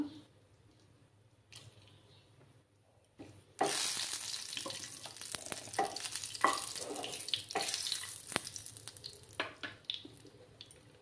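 Bay leaves, a cinnamon stick, cardamom pods and peppercorns drop into hot oil for a Bengali vegetarian soybean curry, starting quiet and then bursting into a loud, steady crackling sizzle with sharp pops scattered throughout.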